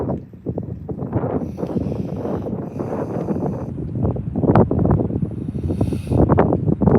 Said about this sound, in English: Being up this high and that wind blowing